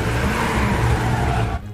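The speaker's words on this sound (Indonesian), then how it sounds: "Tiba-tiba, Ki-hun kabur membawa truknya." A truck speeds away in a Korean film scene, its engine roaring loud and close with a continuous rush that drops off abruptly near the end.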